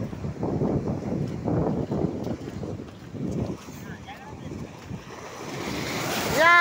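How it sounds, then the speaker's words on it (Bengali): Ocean waves surge and roll in at New Tajpur beach, Digha, in rising and falling rumbles, with wind buffeting the microphone and people talking nearby. "বিরাট ঢেউ রে।"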